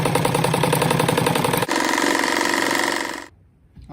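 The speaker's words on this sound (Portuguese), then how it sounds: "eu vou passar mais uma costura, seguindo bem o pezinho da máquina aqui" A sewing machine stitching a patchwork rug runs at a fast steady whir with a dense mechanical rhythm, shifts pitch partway through, then stops abruptly near the end.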